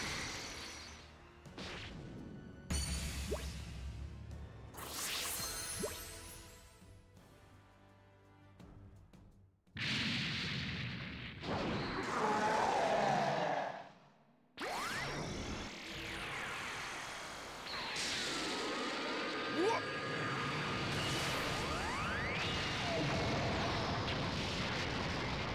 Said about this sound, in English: Special beam cannon! Special beam cannon, nuffy little brat! Try this!